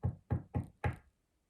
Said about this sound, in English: She bent down and knocked quietly.